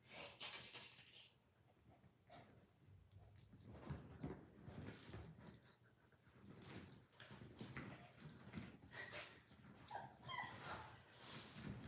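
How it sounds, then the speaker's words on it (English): A dog whimpers and yips during rough play, nibbling at a person, with scuffling and movement throughout; its whines rise and fall close by in a busy indoor scene. "we're playing with a dog"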